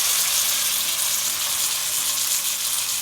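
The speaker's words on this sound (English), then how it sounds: "So I will just stir fry it for 2 minutes, the baby peas" Baby snow peas stir frying with fried onions in a pan, a steady bright sizzle running evenly throughout, close and moderately loud with no talking.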